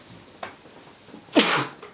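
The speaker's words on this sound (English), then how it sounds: "sneeze there" A single close sneeze bursts out indoors near a podcast microphone, preceded by a brief faint intake and followed by a quieter sound at the end.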